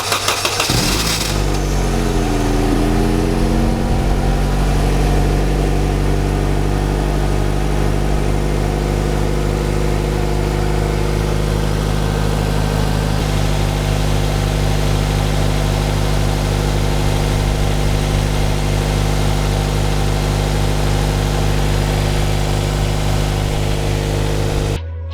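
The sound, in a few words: car engine cold start before oil change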